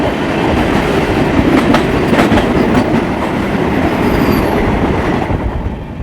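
Indian Ganga Sutlej Express train rolling slowly, heard from inside a sleeper coach: a steady loud rumble of wheels and carriage with faint rhythmic clicking over rail joints throughout.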